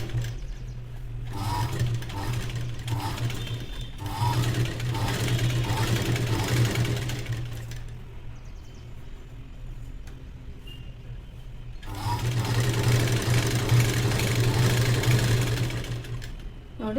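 Sewing machine stitching the back of a blouse with ari work, running steadily and close by with a hum and rapid needle chatter, pausing briefly midway before running on.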